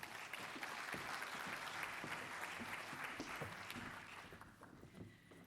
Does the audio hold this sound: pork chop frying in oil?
no